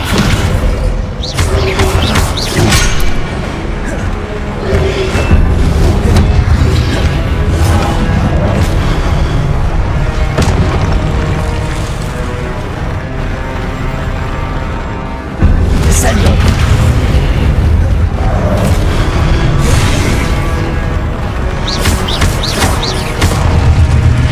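Spell explosions from the video game Hogwarts Legacy: repeated booming blasts and thuds, loud and dense, layered over a continuous busy game soundscape.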